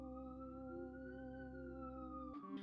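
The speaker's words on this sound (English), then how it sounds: "Do you hear the sirens? The Christmas sirens?" Emergency vehicle sirens wail at a distance on a street, a steady tonal rise and fall that holds for a couple of seconds before being cut off by a nearby noise.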